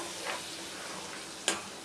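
Spiced masala for prawn pickle fries with tomato in a pan, a faint steady sizzle under one soft stir and a sharper scrape of a spoon against the pan near the end.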